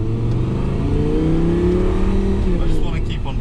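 An Audi R8 V10 engine revs while driving, a loud, close, steady drone with rising pitch sweeps throughout.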